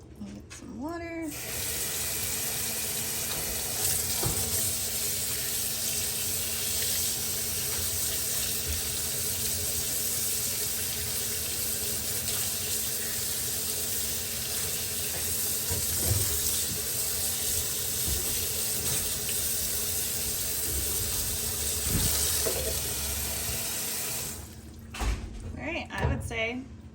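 A kitchen tap runs into a sink in a steady, close rush of water lasting nearly the whole time, ending with a few clunks as it shuts off, with a voice speaking at moments.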